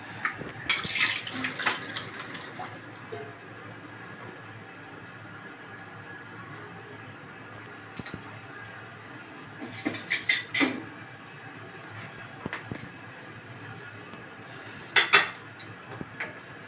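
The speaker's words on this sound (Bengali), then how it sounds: "জলটা দিয়ে দিলাম, গরম জল দিয়ে দিলাম" Hot water poured into a cooking pan of oil and gravy, a continuous close splashing wash broken by clinks and clatters of pots and utensils, with no talk.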